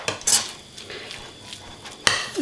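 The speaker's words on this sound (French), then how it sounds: "on va venir mélanger le tout" A spoon stirs cream cheese in a bowl, giving a few quick scraping clinks and taps against the bowl in short bursts, close and fairly loud.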